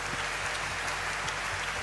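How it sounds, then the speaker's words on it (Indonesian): Brief burst of audience applause at a worship concert in Istora Senayan, a dense, even wash of clapping from a large crowd with no pauses. "Sekali lagi berikan tepuk tangan buat Tuhan"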